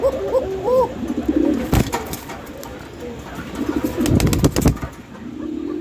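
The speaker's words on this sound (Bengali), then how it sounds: "যে মাদিটা ডাকতেছে আপনারা দেখতে পাচ্ছেন, এখনো ডাকতেছে" A female black Lakkha pigeon coos in a few soft, rolling calls close by, followed by rustling and scuffling noises, with someone speaking quietly in the background.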